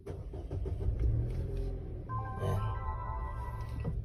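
An MG ZS engine with a misfire after new spark plugs starts and settles into a low, rough idle rumble heard close by, with a voice talking briefly over the start.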